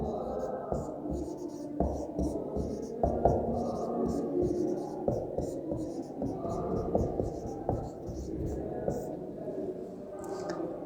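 A pen scratches across paper in short strokes during a home science lesson, close and steady, under a person talking continuously.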